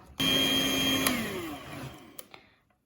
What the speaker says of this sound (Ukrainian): Тепер знімаємо плівку і збиваємо заварний крем до однорідної маси